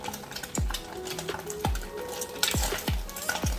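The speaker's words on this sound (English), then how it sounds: "Adding chopped garlic." Chopped garlic sizzles softly in a hot pan for chicken fried rice, broken by repeated sharp clanks and scrapes of a spatula against the metal; no voices.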